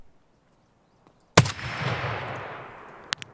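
A single loud gunshot from an RSASS marksman rifle in the game Escape From Tarkov, a sharp crack followed by a long rolling echo tail, with a second fainter shot near the end.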